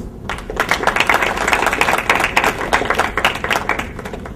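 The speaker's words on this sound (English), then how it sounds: "by giving a clap, we will give them our respects" An audience at a talk in Ohio claps in welcome, a dense and steady burst of applause from many hands that holds at full strength throughout with no voices over it.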